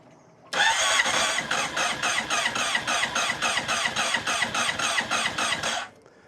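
On a second attempt, the starter of a Honda CBR project motorbike with a freshly cleaned kill switch churns loudly in an even pulsing rhythm for about five seconds, then stops abruptly, close by and without speech.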